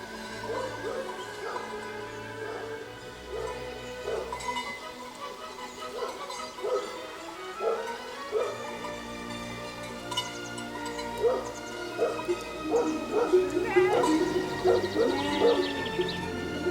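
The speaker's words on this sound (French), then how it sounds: "Il y a un chien qui descend." A herd guard dog in the mountains gives scattered yips, barks and whimpers at a moderate distance, with the calls growing busier toward the end over faint outdoor ambience.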